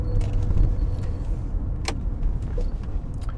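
A 1984 Porsche 928S with an automatic transmission driving along, a low steady rumble of engine and road noise from inside the cabin with a couple of faint clicks and rattles.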